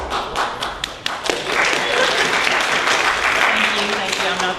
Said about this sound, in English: I'm not the performing act, but I'll take any applause I can get